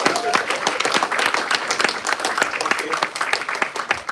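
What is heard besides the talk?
audience applause after a musical presentation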